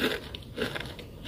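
Biting into a crispy battered fried mushroom, twice-coated, giving a few sharp close crunches and crackles in quick succession with no talking.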